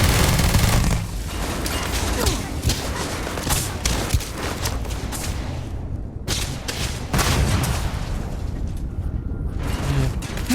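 Gunfire in Starfield, a long, steady barrage of close, loud automatic shots with brief pauses and bursts of mechanical clatter, going on for about ten seconds.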